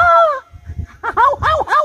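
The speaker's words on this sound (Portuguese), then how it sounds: "Canta, gavião, pro pessoal ver" A hawk (gavião) on a rustic ranch gives a short run of bright, arching calls, one drawn-out cry followed by several quick, loud repeated notes close by.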